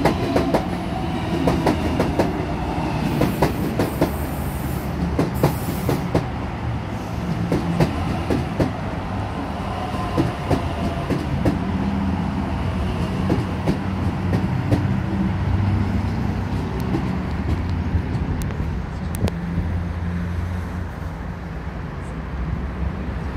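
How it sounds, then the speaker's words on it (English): A Sydney Trains Waratah on a Linfield service arriving at Milsons Point platform 2, a loud sustained rumble with rhythmic wheel clatter and clicks over the joints, close by for the whole stretch, without talk. "Approaching platform 2, we have a Linfield service run by a Waratah."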